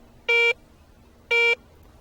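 Two short, identical electronic beeps from a Garrett Ace 250 metal detector, its medium-conductivity tone for jewelry, nickels or foreign coins, sound about a second apart, crisp and close.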